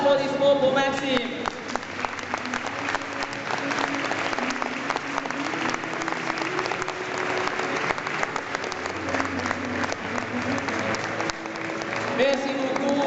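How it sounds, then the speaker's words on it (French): An audience claps at length for Maxime at the Bordeaux horse fair, a dense, steady round of applause with crowd murmur underneath, fairly loud and continuous throughout. "Un grand applaudissement pour Maxime."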